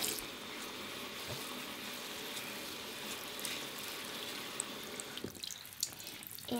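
Water runs steadily from a tap in a sink, wetting a loofah, a continuous close splashing flow with a few drips toward the end.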